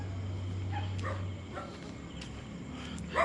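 Several short dog barks sound faintly from a distance during an outdoor neighborhood walk, scattered over a low steady hum, with no talking.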